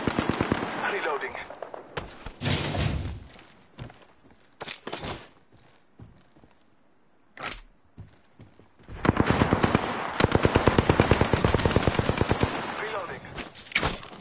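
Gunfire in the video game Apex Legends: loud automatic bursts and single shots come in clusters separated by quiet gaps, ending in a long rapid volley, with game voice lines heard in between.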